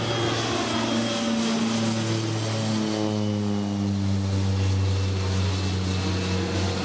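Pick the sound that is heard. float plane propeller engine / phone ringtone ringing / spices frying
float plane propeller engine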